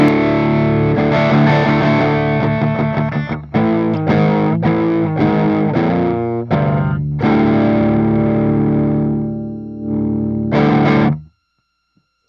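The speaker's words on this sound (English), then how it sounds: "let's engage this volume boost." An electric guitar through a Laney amp on its clean channel with a volume boost pedal engaged plays chords and riffs with a little added grit, loud and continuous, ending with a held chord that cuts off abruptly.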